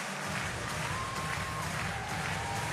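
Crowd applause and cheering at a European mixed team final, just after the first-ever bronze medal is won. The clapping is dense and steady, holds at an even level throughout and carries no clear voices.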